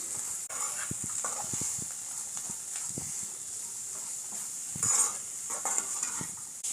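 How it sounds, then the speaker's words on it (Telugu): A spoon scrapes and taps through radish pods fried with coconut chilli powder in a pan, giving irregular close clicks and knocks over a faint, steady sizzle, with no talking. "ముల్లంగి బుడ్డలకు పట్టే విధంగా బాగా కలుపుకుందాం"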